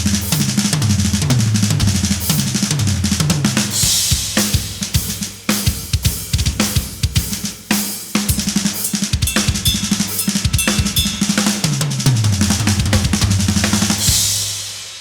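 A drum set plays fills built on the six-stroke roll rudiment, loud and close over a driving groove, with fast rolling bursts across the toms and snare punctuated by cymbal crashes, and no voices.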